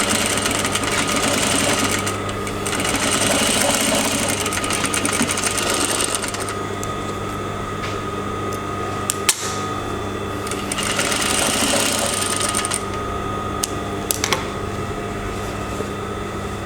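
A sewing machine stitching a trimming or closure seam on a garment runs in steady, loud, continuous bursts with brief pauses, close to the microphone and alone.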